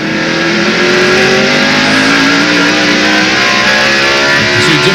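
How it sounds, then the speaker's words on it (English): A 1998 NASCAR Winston Cup stock car roars very loudly and continuously as it accelerates down the straightaway at Martinsville during the Goody's Headache Powder 500, its engine pitch climbing steadily. "You can see just how quickly that engine accelerates down the straightaway"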